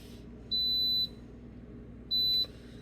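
Vevor electric stove top timer beeping, two sustained high electronic tones about a second apart, close and clear over faint room noise, no talk.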